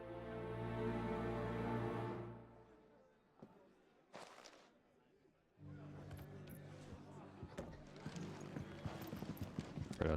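Horse hooves clip-clop in the Final Fantasy 16 video game, a rhythmic clatter of steps over background game music, preceded by a brief quiet gap with faint taps.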